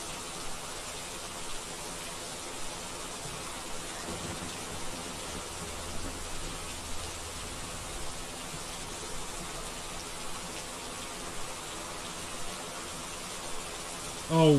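Steady, loud rain in a ghost-hunting video game hisses continuously throughout, a dense wash of falling water with no pauses.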